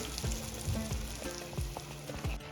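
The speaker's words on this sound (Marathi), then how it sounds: "दोन्ही बाजूनं छान गोल्डन कलर येईपर्यंत अंडा भाजी तळले जातील" Egg bhaji fritters frying in hot oil, making a close, continuous crackling sizzle dotted with small pops and bubbling, without any talking.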